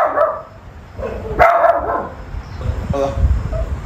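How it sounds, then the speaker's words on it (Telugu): Dogs bark in a few short bursts outdoors, moderately close, with gaps between barks and a noisy background. "ఊరికే అరవు కుక్కలు."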